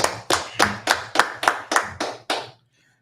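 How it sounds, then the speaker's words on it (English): Nine loud, evenly spaced hand claps ring out close by in a steady rhythm, followed by silence. "All right, clap it up."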